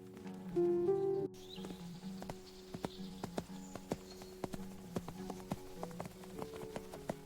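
A donkey walks with a father riding it and a child on foot, its hooves striking in a steady, even clip-clop. The steps are near and moderately loud, with a short musical tone at the start.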